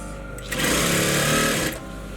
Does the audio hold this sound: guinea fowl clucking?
no